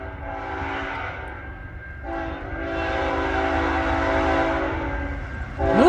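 A CN freight train at Ladysmith passes close with locomotives, a loud sustained horn blast over heavy rumbling engines that swells toward the end.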